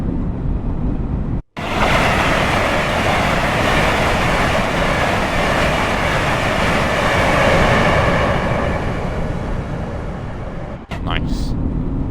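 A Class 805 train runs in Train Sim World on the West Coast Main Line, giving a steady broadband rush of wheel and air noise that holds for about ten seconds between brief cuts, with no speech.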